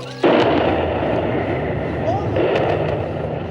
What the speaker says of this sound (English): the four cooling towers that had dominated the skyline of Annandale were demolished in a controlled explosion